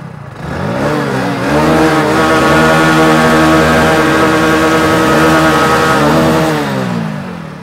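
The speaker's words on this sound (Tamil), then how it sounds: "இப்போ நம்ம வண்டியோட எக்ஸாஸ்ட் நோட் நம்ம கேட்கலாம்." A legendary motorcycle on sale for 30 years starts up and settles into a loud, close exhaust note, with two throttle blips rising and falling before it idles and cuts off.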